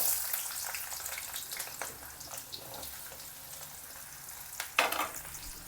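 Onions frying in heated oil for paneer pepper dry fry, crackling and sizzling steadily with scraping stir noises and a louder burst of spatter near the end, no voices over it.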